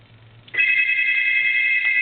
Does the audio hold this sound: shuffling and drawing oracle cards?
no